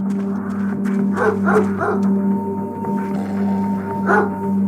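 A dog barks in the video game Broken Sword: The Sleeping Dragon, several gruff mid-pitched woofs in short bursts over a steady low hum, fairly close and loud.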